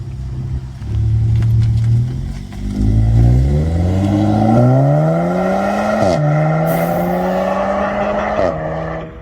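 An Audi S3 with 300 hp revs and accelerates loudly from a launch-control start, pitch climbing through several gear changes with brief drops between shifts, close and continuous.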